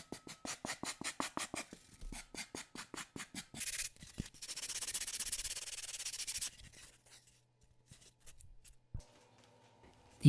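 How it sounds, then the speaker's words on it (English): A Japanese wood rasp shapes a foam form in quick, rhythmic strokes, about two dozen close scrapes at first, then one long continuous rasping run, followed by quiet with faint handling noises. "I'm going to try using this crazy Japanese rasp that I love for wood."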